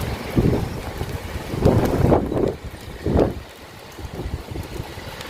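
Gusty storm wind blows behind a house in the UK during light rain, producing a rushing, buffeting roar with several stronger gusts rising and fading.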